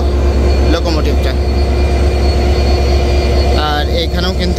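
Running 3200 horsepower diesel locomotive of the Silkcity Express on the Rajshahi–Dhaka line, a steady loud rumbling engine drone throughout with voices talking over it.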